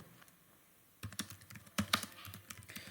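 Code typed on a computer keyboard during a live coding session: after a quiet second, a close burst of rapid, uneven keystrokes and clacks runs on continuously.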